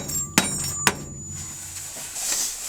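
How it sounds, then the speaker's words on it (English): Two sharp metallic hammer smacks about half a second apart, close by, knocking sound deadening loose from car metal, followed by a low steady hiss with no talking. "take the hammer and you're just going to smack it, break everything loose."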